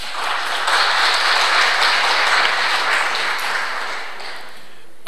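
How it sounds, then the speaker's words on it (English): Applause from a debate audience fills the room, dense and sustained. It holds steady for several seconds, then tapers off near the end, with no talking over it. "I thought we were told not to clap or make noises or sounds and so forth"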